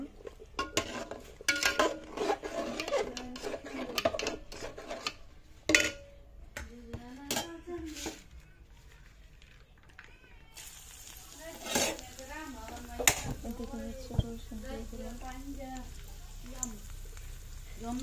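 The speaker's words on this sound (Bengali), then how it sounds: "এই হচ্ছে পেঁয়াজ বেরেস্তা।" Onions frying for beresta hiss steadily in a pan, with utensils clinking and scraping as they are stirred; people talk over the sizzle throughout.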